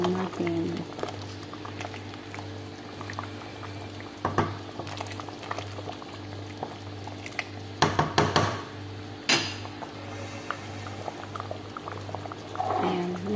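Arroz caldo rice porridge bubbles at a low simmer in a pot, making a soft continuous burble. Several louder bursts of clatter and stirring cut in, and a voice is faint underneath.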